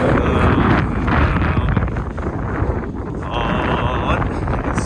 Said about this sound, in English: you can see the wind whipping the snow.